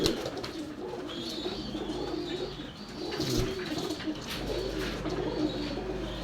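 Tournament-bred pigeons coo steadily at close range while being held in the hand, their low rolling calls continuous beneath faint rustling.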